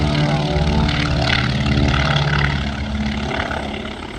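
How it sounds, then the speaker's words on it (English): A small propeller plane takes off at an air show, its engine droning loud and close with a steady buzzing tone that eases slightly toward the end. "That's his buddy taking off."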